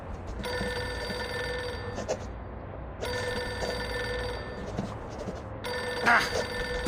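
Telephone bell ringing in Reverse: 1999, loud and repeating in three long bursts separated by short pauses, with a brighter clatter near the end.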